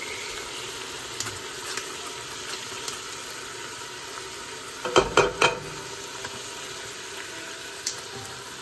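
Thinly sliced onions and garlic fry in a pan for a Jamaican beef and mango stew with a soft continuous sizzle, broken by a short cluster of clattering stirring knocks in the middle.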